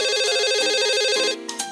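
An electronic telephone ringtone warbles loudly and rapidly in a steady repeating pattern for over a second, then cuts off, leaving brief faint noise.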